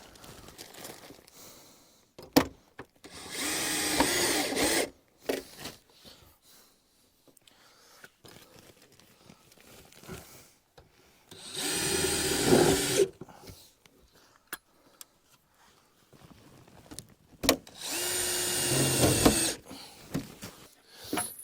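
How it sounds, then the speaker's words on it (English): A power drill drives Tek screws into the metal frame of a whole house fan during a DIY attic install, with three long whirring bursts separated by quieter handling and scraping. "Now I'm going to screw these Tech screws in to support the sides."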